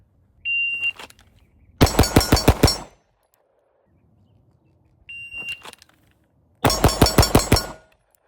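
Fusion Firearms XP Pro pistol fired at a shooting range: two rapid strings of about six close, loud, sharp shots each, each preceded by a short electronic timer beep.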